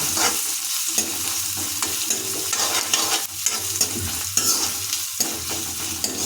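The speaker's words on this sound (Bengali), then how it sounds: "পেঁয়াজ কুচি যোগ করে দিয়েছি এটাকে আমরা ভালোভাবে হাতা দিয়ে মিনিট মিনিট ধরে" Chopped onions sizzle steadily in a hot pan while a ladle stirs them, scraping and tapping against the metal in irregular strokes over the continuous frying hiss.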